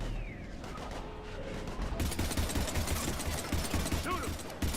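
Gunfire in the video game Mass Effect 3 while shooting husks, fast rattling bursts that start soft and grow into dense continuous shooting over the second half.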